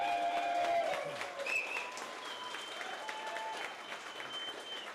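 A crowd at a city council ceremony applauds with steady, dense clapping that fades slightly toward the end.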